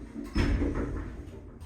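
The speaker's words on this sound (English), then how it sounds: "Doors closing." Lift doors slide shut in a building in Christchurch or Bournemouth, a brief low rumbling glide that ends in a soft thud, close and moderately quiet with no voices.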